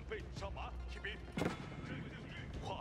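Cannon fire in a medieval strategy video game, with one heavy boom in the middle of scattered battle noise, under a voice talking.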